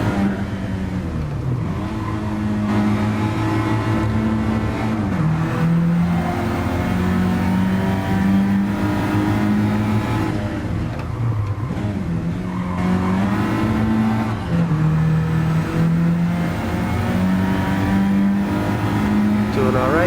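Engine of a Citroen DS3 driven flat out in Gran Turismo Sport, a steady loud drone that climbs, drops at each gear shift and climbs again, with occasional tyre squeal and no talking.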